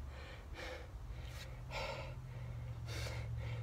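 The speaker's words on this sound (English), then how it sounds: "I'm taking like these micro breaths" Short, shallow breaths drawn in quick succession inside a hot vehicle under heavy heat, several brief airy puffs close to the mic over a steady low hum.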